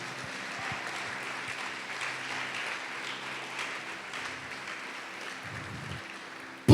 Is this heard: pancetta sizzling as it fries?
no